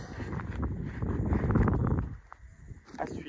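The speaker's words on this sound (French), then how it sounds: "Ouais, le vent." Gusts of wind buffet the microphone outdoors at a plantation, a low rumbling rush that swells for a couple of seconds, then eases, with faint rustling and light knocks around.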